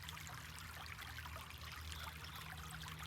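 Water running over rocks in a babbling brook on a farm beside a garden, a steady soft trickle and burble that holds evenly throughout with no voices.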